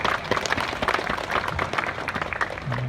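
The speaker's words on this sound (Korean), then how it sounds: "큰 박수 한번 부탁드리겠습니다" Audience applause at the opening ceremony of Robot Land, a dense, steady wash of many hands clapping throughout, fairly close and sustained.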